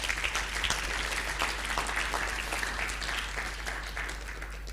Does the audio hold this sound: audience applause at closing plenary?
yes